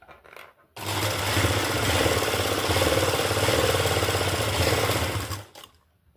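A sewing machine stitches a sleeve cuff in one continuous run of about five seconds. The steady, close mechanical whirr starts and stops abruptly, with quiet before and after.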